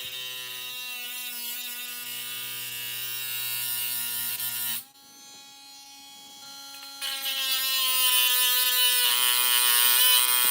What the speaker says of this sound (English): It's very hard to Dremel.